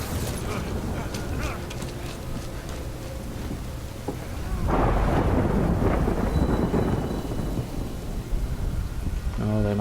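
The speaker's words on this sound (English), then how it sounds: "they might be backing off because of the rain, though" Steady rain with rolling thunder in the video game Death Stranding, a constant hiss that swells into a louder, denser downpour and rumble midway, with no talk.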